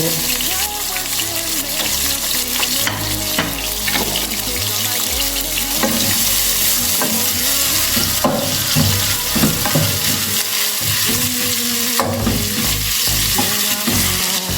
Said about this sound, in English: I will allow my onions to cook until they are caramelized